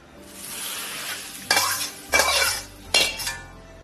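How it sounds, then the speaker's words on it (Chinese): Cabbage and egg stir-fried in a wok over high heat: a continuous close sizzle broken by three sharp bursts of scraping and tossing as the food is flipped. "把火开到最大，给它一起爆炒一下就可以出锅了啊"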